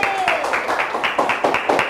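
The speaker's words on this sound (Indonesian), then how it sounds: "Oke, tepuk tangan untuk kita semua." Group clapping from a class in an Indonesian school maths lesson on arithmetic sequences, a burst of rhythmic, loosely synchronized claps that fills the short stretch, with some voices mixed in.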